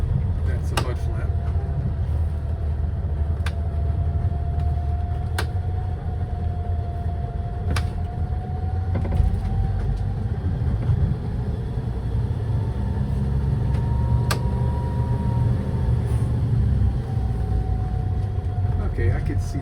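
A car rolls slowly in first gear at about ten miles an hour through Black Rock State Park in northern Georgia, a steady close engine drone with a faint rising whine and occasional knocks, people talking over it throughout.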